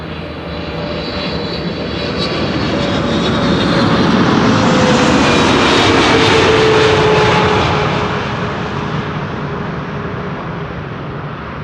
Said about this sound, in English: Was that a Hercules or something that I heard passing by?